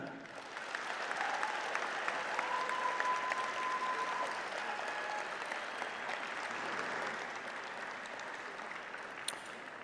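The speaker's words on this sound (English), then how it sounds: "Students, let's give it up for your loved ones who are here for you tonight." A large audience at the Clarkston High School 2026 graduation ceremony, with students applauding their families. Sustained, dense clapping fills the hall for about ten seconds at an even, fairly far-off level.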